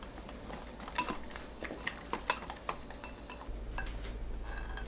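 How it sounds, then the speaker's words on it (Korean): A spoon clinks and scrapes against a bowl while 100 g of curry powder is stirred into 150 ml of water, giving scattered close taps and clinks with no talking. "카레가루 100g을 물 150ml 넣고 뭉친 곳 없게 풀어줍니다"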